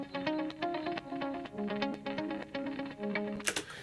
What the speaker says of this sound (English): It's like a palm muted, you know, echoey thing.